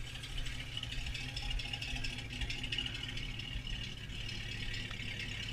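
A 1976 Ford Elite Gran Torino sits idling after running for nearly ten minutes, giving a quiet, steady low rumble with a light mechanical rattle throughout and no voices.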